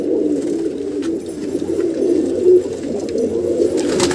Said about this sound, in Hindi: बहुत ही शानदार कबूतर है ये